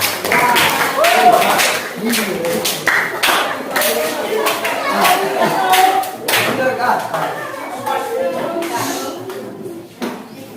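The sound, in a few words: classroom applause for a student group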